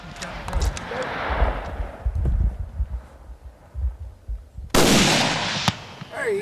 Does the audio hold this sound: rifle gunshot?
yes